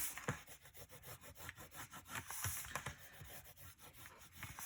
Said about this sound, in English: And then I'm going to burnish that tape in really, really good.